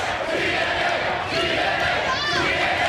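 A packed standing-room-only crowd at a TNA wrestling arena roars continuously throughout a triple-threat match, a dense, loud wash of cheering and shouting with a few louder swells.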